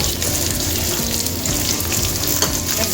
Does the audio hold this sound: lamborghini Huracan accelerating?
no